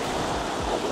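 Ocean waves slap against a small tour boat heading out to a larger boat off El Nido, Palawan, a steady broadband wash of surf and spray that stays close and loud for the whole second, with no talk.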